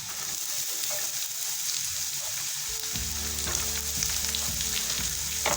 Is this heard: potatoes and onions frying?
yes